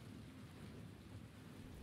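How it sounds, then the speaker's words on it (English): Steady rain hisses on surfaces with a low thunder rumble underneath, faint and continuous with no voices. "Those of you that want to listen to this rain, I can post it up so that you going to use it to go and put yourself to sleep."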